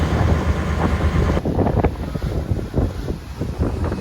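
Strong wind at sea aboard a fishing boat off Satpati village, a constant loud roar buffeting the microphone over the low rumble of the boat and water.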